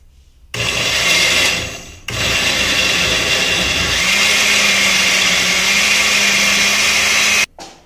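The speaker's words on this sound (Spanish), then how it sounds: "Ahora sí, vamos a licuar." A blender purées tomatoes for a tomato broth for meatballs, roaring loud and close in two bursts split by a short pause before cutting off abruptly.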